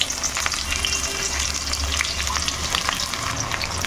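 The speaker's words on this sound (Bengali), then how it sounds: "এই যে পেঁয়াজগুলোকে একটু ভেজে এখন বেরেস্তা বানিয়ে নেব" Onions frying in a generous amount of white oil in a wok, a steady, loud, close sizzle with bursts of crackle and occasional stirring scrapes, and no talking.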